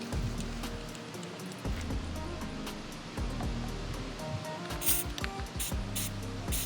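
LU711 penetrating lubricant sprays from an aerosol can through a thin extension tube, giving a soft continuous hiss that comes in short bursts, faint against background clatter.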